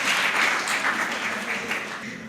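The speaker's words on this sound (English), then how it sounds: "Please, a round of applause for her." An audience at a Shades of Muslimah mental health awareness event applauds for a Quran reciter, a thick, steady round of clapping that stays loud and then eases slightly toward the end, without speech.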